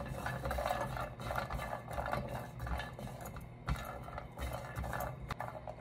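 Walnuts dry-roast in a thick nonstick pan while a utensil scrapes and clatters against the pan in repeated irregular strokes, close and fairly quiet, with no talking.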